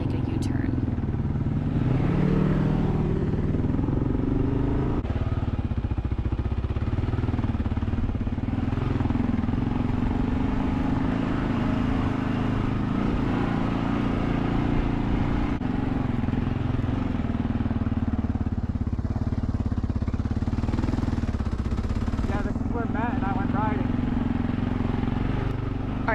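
A dual sport motorcycle carrying two riders runs along an off-road trail, its mid-pitched engine droning steadily and loudly throughout with wind buffeting, while a voice talks over it.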